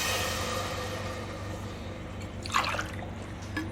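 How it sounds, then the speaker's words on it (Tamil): Water goes into a pot for rice, first as a soft trickle and then as a brief burst of splashing pouring near the end, close and fairly quiet. "3 கிளாஸ் தண்ணி விட்டுக்கிறேன்."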